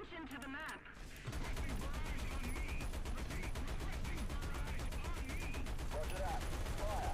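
Artillery fire in the tank game War Thunder, a dense, continuous barrage of rapid heavy blasts and rattling bursts that starts abruptly after a brief quieter moment and stays loud to the end.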